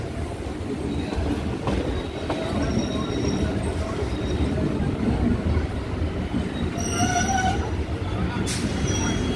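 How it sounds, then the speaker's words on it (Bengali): Inside a moving local suburban train near Baranagar Road station on the Sealdah line, a continuous loud rumble of wheels on track carries rhythmic clatter and a few high squeals, with a voice speaking over it. "উপর দিয়ে যাচ্ছে মেট্রো।"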